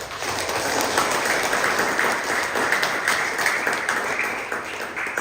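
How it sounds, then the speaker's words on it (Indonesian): Steady, dense applause from a crowd at a primary school farewell and graduation ceremony for sixth-grade pupils in Indonesia, sustained at an even level throughout without pause. "Mari tepuk tangan dulu."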